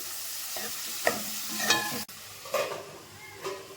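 Onions and drumsticks with salt frying in a pan, stirred with a spoon in scraping strokes and clinks over a steady close sizzle.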